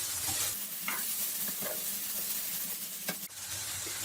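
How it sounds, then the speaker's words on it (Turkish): Zucchini sautéing in a pan over a high flame makes a continuous close sizzle, broken by occasional scraping stirs and light clatters, with no voices. "Ocağın alevini hiç kısmadan bu şekilde pişiriyorum."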